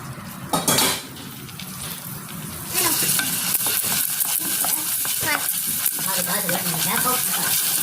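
Corn kernels for popcorn are tipped into a pan of melted oil in a home island kitchen, with a short clatter followed by a loud, steady sizzle and repeated metallic stirring and scraping that carries on to the end.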